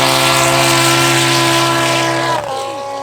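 A light aircraft engine runs at full power during the climb out, a loud, steady, close drone with strong harmonic tones that eases slightly near the end.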